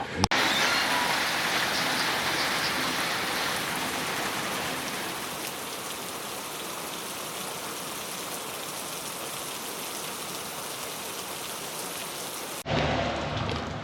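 Steady rain pours down in a coffee farm under tall shade trees, a dense, loud hiss of drops on leaves and surfaces lasting almost the whole time before cutting off abruptly near the end.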